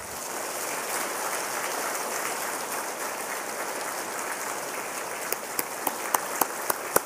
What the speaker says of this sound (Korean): 뜨거운 박수로 우리 격려합니다.